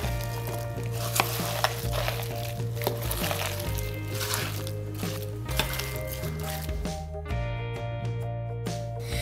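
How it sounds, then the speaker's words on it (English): Chopped apples being stirred into apple fritter batter in a bowl, with repeated wet, squishy scraping strokes that sound close and fairly loud. A steady tonal hum runs underneath and no one speaks. "Then we're going to add the apples and then stir it all together."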